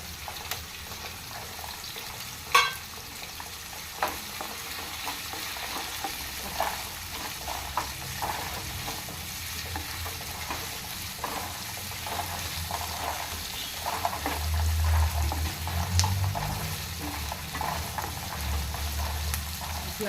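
Onions, green chillies and ginger fry in hot oil, a steady crackling sizzle with occasional sharper pops and stirring scrapes, close and moderately loud, with no talking.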